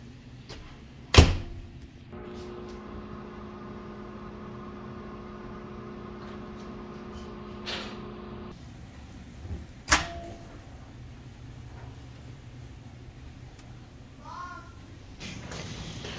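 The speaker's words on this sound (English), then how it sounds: "So just pop your Warmie in the microwave for 90 seconds." A sharp click and thud, then a steady low hum of a microwave oven running for several seconds, ending with another clunk and quieter sounds after.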